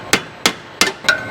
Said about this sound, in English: Gonna get a hammer. We're just gonna kind of dink this backwards.